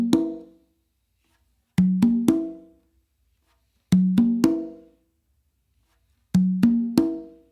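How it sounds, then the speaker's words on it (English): A bossa nova pattern on conga and tumba: repeating groups of three resonant hand strikes, mixed open and low tones, each group ringing briefly and then falling silent before the next, close and clear with no talking. "it's starting to get some of them bossa nova vibes there"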